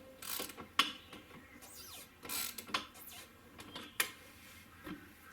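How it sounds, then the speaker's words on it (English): A C-clamp is cranked to compress an end link bushing on a Club Car Precedent golf cart, giving intermittent ratcheting clicks and metallic creaks in short bursts at close range with no talking. "Use this C-clamp here,"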